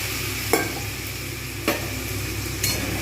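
Spices frying in a pan for home-made chicken biryani, with water just added: a steady, close sizzle throughout, broken by three soft scraping clinks of stirring, no voices.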